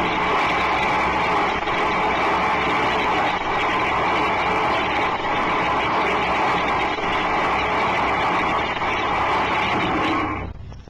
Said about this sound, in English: A Model 12T thrust engine will be heard operating on Turbonique's static thrust measuring stand.